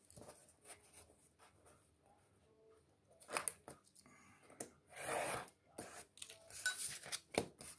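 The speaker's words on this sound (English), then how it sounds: "So we're just going to trim that down a little bit narrower than the actual box itself." A cover piece for a magic trick gimmick box is trimmed narrower. Faint, soft scissor cuts and rubbing come in short scattered bursts against a quiet background, loudest toward the end.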